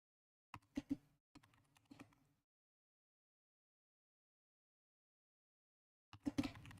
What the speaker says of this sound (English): I'm gonna go ahead and type